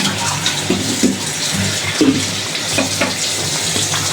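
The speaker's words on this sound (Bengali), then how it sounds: "পোলাওটা বলকে চলে আসছে।" Pulao rice comes to a boil in a pot on the stove, a constant close bubbling and hissing with small irregular pops throughout.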